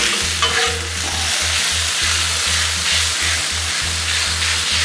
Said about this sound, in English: Get that steak all stirred up. You see it browns up real quick.